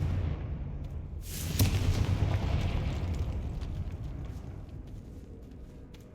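Confringo, a fiery blasting spell in Hogwarts Legacy, cracks into a sudden loud explosion about a second in, then rumbles and slowly dies away over a steady low background.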